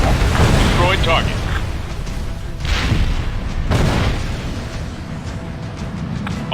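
A destroyed tank explodes in the combat flight game Ace Combat Assault Horizon with deep rumbling booms and a roaring blast, loud and near, under radio chatter and game sound.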